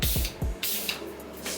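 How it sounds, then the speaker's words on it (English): A Glade air freshener sprayed in a bathroom gives a few short pressurized hisses in quick succession, close and fairly loud, then quieter room sound. "I'm gonna just spray it for the bathroom"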